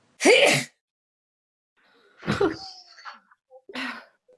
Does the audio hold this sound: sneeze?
yes